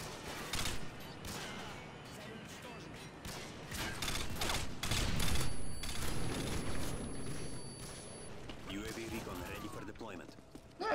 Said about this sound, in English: That was a lot of gunfire all at once.